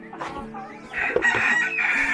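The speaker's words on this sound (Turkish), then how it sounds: "Bir tane tavuk var orada gördüm." Chickens cluck and a rooster crows nearby in a farmyard hen house during egg collecting, a steady run of calls over about two seconds with no talk.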